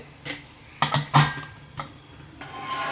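A pressure cooker lid is set on and closed over paneer biryani on a low flame, giving a few sharp metallic clinks and clanks spaced across the moment, close by with no talk.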